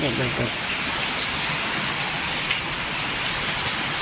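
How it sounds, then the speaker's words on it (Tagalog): Heavy, steady rain pours down during Typhoon Kristine, a dense continuous hiss drumming on surfaces close by, with a brief low voice murmuring near the start. "Ayan, malakas yung ulan."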